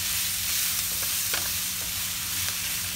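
Food being stirred and tossed in a frying pan while making spaghetti with meatballs, a steady close sizzle broken by occasional scraping stirs of the utensil, with no talking.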